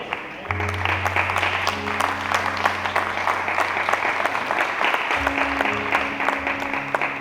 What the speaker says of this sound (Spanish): Alguien que aplauda a Dios.